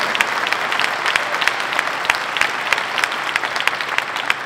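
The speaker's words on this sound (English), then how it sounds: "Une main d'applaudissement." A crowd at an inauguration event in Laval, Quebec claps loudly and steadily, dense overlapping hand claps filling the room for several seconds with no talking over it.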